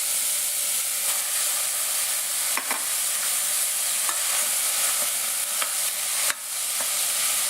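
Minced meat browns in a pot with a dense, even sizzle, broken by a few sharp scrapes and taps as it is stirred, heard up close with no talking.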